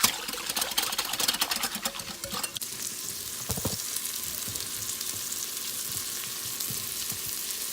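Food sautes in a pan, a bright crackling sizzle up close that is loudest at first and then settles into a softer steady hiss, with a brief knock midway and no one speaking.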